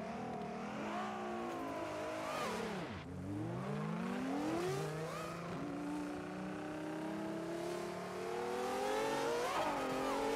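A Nissan GT-R R35 and a Mazda RX-7 drift cars tandem racing at Suzuka, engines revving hard and wailing through gear changes with tire squeal, a steady loud blend of two motors rising and falling near by.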